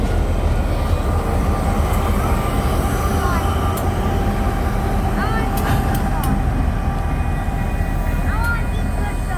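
A train engine passing close by, a loud continuous rumble and rattle of rail cars and wheels with squeals and clanks scattered through, steady and near for the whole stretch.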